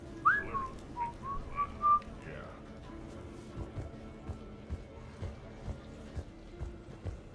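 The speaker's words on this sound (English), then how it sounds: "Are you whistling?" A Mass Effect 3 character whistles a short, bright melody during the first two seconds, then falls quiet. Soft footsteps and low game ambience continue underneath.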